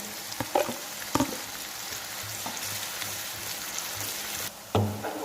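Sliced onions and garlic frying in oil already used for frying chicken gizzards, a continuous close sizzle broken by a few sharp spatters and clinks of stirring.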